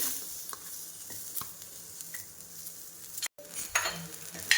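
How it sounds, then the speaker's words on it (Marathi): Onion roasting on a flat tava for a restaurant-style green chickpea curry, a faint steady sizzle with occasional scraping and stirring clicks of a utensil against the pan, briefly cut off mid-way. "त्यानंतर आपल्याला कांदा भाजून घ्यायचा आहे."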